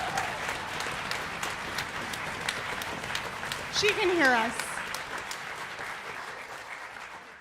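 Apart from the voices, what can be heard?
audience applause for a performer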